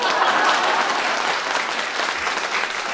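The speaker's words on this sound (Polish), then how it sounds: "Dajcie brawa, jeżeli się z tym zgadzacie." Lively audience applause at a women's evening event, dense and continuous, a little louder at the start before settling to an even level.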